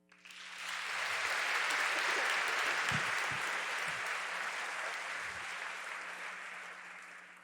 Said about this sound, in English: Would everyone please join in giving them a round of applause?